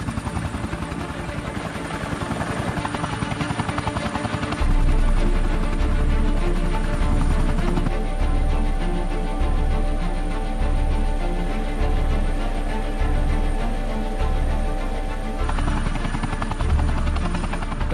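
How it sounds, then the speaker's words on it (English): Helicopter flying high in the Himalayas, its rotor and engine a loud, steady drone that swells into a heavier, deeper throb partway through and holds there throughout, with no voices. "this has got to be the best place to fly in a helicopter"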